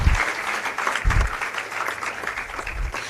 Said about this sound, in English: Please give a huge round of applause for the achievements that ma'am has gained